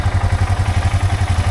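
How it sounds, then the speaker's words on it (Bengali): A motorcycle engine idles while warming up on a cold morning, a close, even low putter with rapid regular pulses and no talking. "বাইক ওয়ার্ম আপ হচ্ছে"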